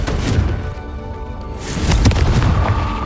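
A Confringo blasting spell erupts in Hogwarts Legacy, producing loud, deep booming explosions that rumble and crackle, with a second heavier blast swelling near the end.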